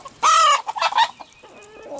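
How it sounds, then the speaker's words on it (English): Hens clucking up close in a farmyard, loud squawking calls in two quick bursts followed by softer, lower clucks. "sometimes the hens are not very nice to each other either, are they?"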